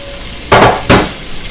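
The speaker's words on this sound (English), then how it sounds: "let that stir fry" Mushrooms and corn stir-frying in a pan for chicken fried rice: two loud bursts of sizzling and scraping as the ingredients are tossed, separated by a brief pause, over quiet kitchen background.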